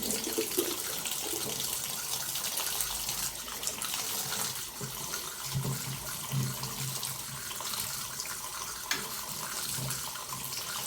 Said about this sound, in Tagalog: hugasan na po natin yung ating talbos ng ng kalabasa at saka po yung bulaklak